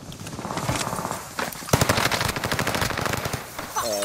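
Rapid automatic gunfire in Call of Duty: Warzone on Rebirth Island, dense bursts of shots crackling over game ambience, loud and near, with a brief sharper report midway.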